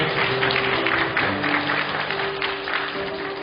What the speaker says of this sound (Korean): 청년들 박수 한번 주세요